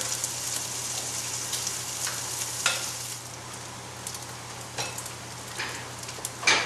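Bacon sizzles in a pan for a flammkuchen, a steady crackling fry with sharp spits and pops scattered throughout, close by, over a low electrical hum.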